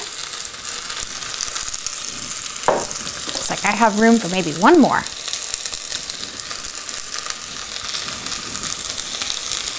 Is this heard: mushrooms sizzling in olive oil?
yes